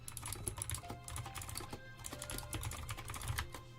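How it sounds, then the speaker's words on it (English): Quick, irregular clicks and clacks of typing on a computer keyboard, fairly faint and close, running continuously with a low hum underneath. "Sorry if my typing is loud."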